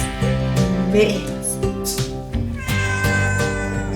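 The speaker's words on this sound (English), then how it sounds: "They're good cats." Several house cats meow loudly and repeatedly, with some drawn-out caterwauling calls, close by and continuous throughout.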